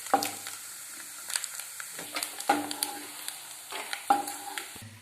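Coconut pieces frying in hot oil, a soft, quiet sizzle broken by three sharper stirring scrapes of a spoon in the pan, close and unhurried.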